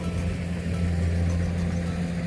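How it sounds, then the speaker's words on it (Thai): A farm tractor plows and levels a rice field, its engine holding a steady, close, low rumble with no gaps and no voices. "มื้อเช้านะคะรถไถเข้ามาไถให้แล้ว"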